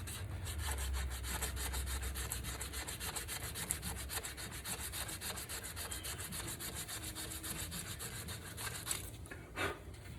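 Bois d'Arc hedge wood is sanded by hand along the grain in quick regular back-and-forth strokes, close and rhythmic, a dry rasping rub with no talking.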